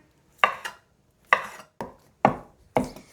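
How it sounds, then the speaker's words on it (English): A knife roughly chops cooked chicken on a cutting board for a Pennsylvania Dutch chicken pot pie, five sharp separate thuds at an uneven pace, close and clear with quiet gaps between. "he's just kind of going in there and just rough chopping it all over the place"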